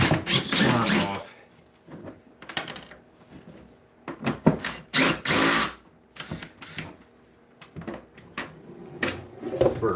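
Power drill backing Torx T27 screws out of a Stihl arm, several short whirring bursts separated by pauses and handling clatter.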